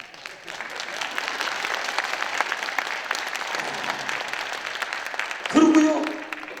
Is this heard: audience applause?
yes